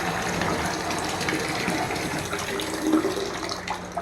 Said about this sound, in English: let me turn this water off